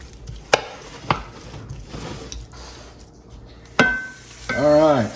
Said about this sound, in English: And then we're just going to fry this up.